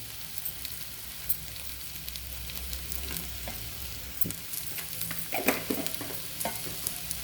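Tawa pulao of rice and vegetables sizzling on a tawa while a spatula stirs and scrapes it, a steady fry hiss broken by scattered clinks and scrapes, close and moderately loud with no talking.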